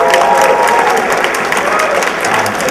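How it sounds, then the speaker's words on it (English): An audience at the AFI Silver theatre applauds at a 50th anniversary celebration for horror host Count Gore De Vol, with steady, dense clapping and a few faint cheers throughout. "Let's hear it for Count Gore"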